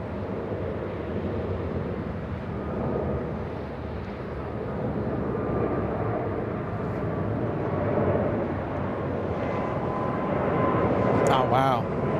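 Turkish heavy jet going around and passing overhead at LAX airport, a sustained loud roaring rumble that swells as it flies directly over, with a person talking excitedly throughout.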